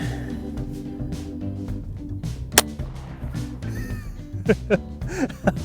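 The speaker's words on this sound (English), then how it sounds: "let's see if a .22 long rifle will go through it" A .22 Long Rifle shot fired at a polished aluminum foil ball produces one sharp crack, followed by a few fainter impulsive pops. A low tonal background hum runs throughout, and no voices are heard.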